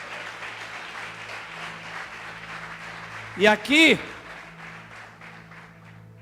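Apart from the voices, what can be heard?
congregation applauding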